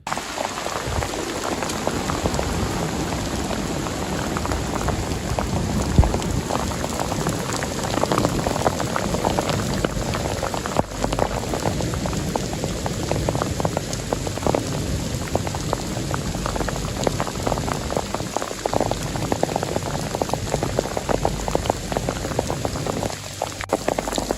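Heavy rain drums steadily and densely on a nearby tent fabric, a constant loud hiss with scattered sharper drops, no voices.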